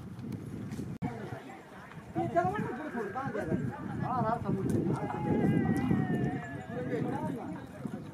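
At a horse-bullock cart race at the Nagarsul ground, a running horse's hoofbeats thud under a loud commentator's voice and crowd noise, with whinny-like calls rising mid-stretch.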